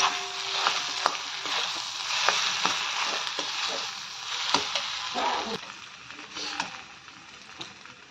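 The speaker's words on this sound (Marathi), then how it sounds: "हे बघा आता बटाटे टाकून घेतलेत आपण, इथं मिक्स करून घ्यायचे।" Potatoes fry in a pan with ginger, garlic and chili while being stirred, a loud, steady close sizzle broken by scraping and clinking of the spoon, with no talking.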